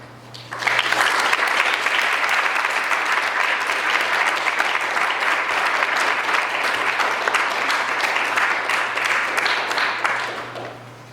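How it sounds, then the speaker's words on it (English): Sustained applause from a large lecture audience, steady and full for about ten seconds before tapering off at the end. "Join me in an applause."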